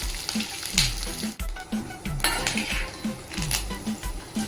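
Curry leaves frying in ghee for an upma tempering, a steady close sizzle with repeated metal clinks and scrapes of a utensil against the pan.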